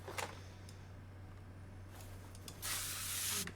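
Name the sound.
WD-40 lubricant being sprayed on car axle parts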